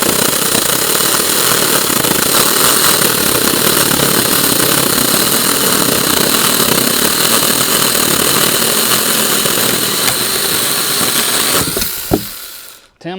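A Tomyvic 6-inch mini chainsaw cuts steadily through a hickory log, its loud, continuous buzzing motor running for a long stretch before the cut finishes and the saw cuts out abruptly near the end, with a brief clatter.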